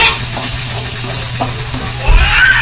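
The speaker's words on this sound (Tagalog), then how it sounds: "Hinisa-gisa ko muna ang corned beef bago." Corned beef sautéing with garlic and onion in a pan, giving a steady close sizzle with scraping and stirring strokes of a utensil against the pan and a louder clatter near the end.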